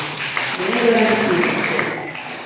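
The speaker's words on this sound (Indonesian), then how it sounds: "Tepuk tangan untuk Ibu Eci." An audience at an eco enzyme outreach session in Malang claps for a woman named Ibu Eci, a dense, steady patter of hands lasting a couple of seconds, with a voice murmuring under it.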